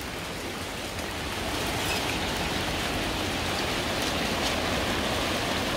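Steady rain pours down outdoors, a dense, even hiss of drops that builds slightly in the first two seconds and then holds constant with no voices.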